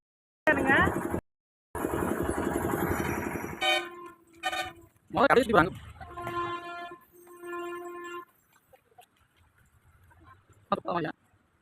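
A train horn sounds at a railway crossing in several long tonal blasts between stretches of rumbling noise, with talk passing in between and a final short toot.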